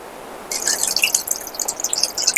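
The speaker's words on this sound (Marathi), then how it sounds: "थोडस हलकं पाणी टाकून" A little water splashes into a hot pan of tempered cumin and tamarind, setting off a sudden bright bubbling sizzle with rapid pops that keeps going close by.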